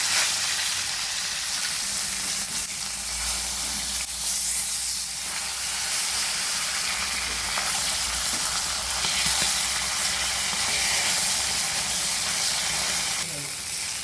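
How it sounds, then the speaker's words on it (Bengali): Fish pieces frying in hot oil in a wok make a continuous, close, bright sizzling hiss with crackle, steady and loud throughout with no talking over it. "কড়াতে তেল দিলাম, এবার এক এক করে মাছগুলো তুলে দিলাম।"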